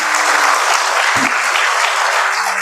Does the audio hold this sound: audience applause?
yes